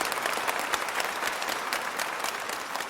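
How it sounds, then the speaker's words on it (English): An audience gives a steady round of applause at a live-taped talk event, dense clapping holding at an even level from start to finish with no voices over it. "I think it deserves a round of applause."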